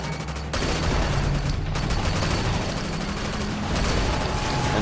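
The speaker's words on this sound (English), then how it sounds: "Now we get to another shooting section where everyone in Hong Kong has guns all of a sudden." Dense, continuous gunfire fills a shooting section of the video game Sleeping Dogs, set in Hong Kong, with rapid overlapping shots and booms at a steady loud level and no talk.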